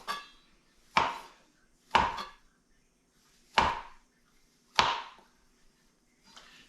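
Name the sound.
knife chopping mushrooms for homemade pizza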